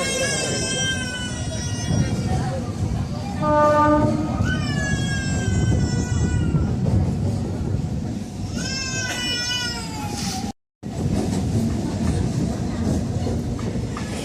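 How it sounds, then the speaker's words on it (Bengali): Train running on the rural line to Digha, a steady rumble of wheels on track throughout, with squealing tones rising and falling over it and a brief dropout near the end. "এই দীঘা যাওয়ার ট্রেন লাইনটা অ্যাকচুয়ালি পুরো একদম মানে গ্রামের মধ্যে দিয়ে"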